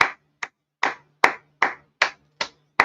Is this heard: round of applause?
yes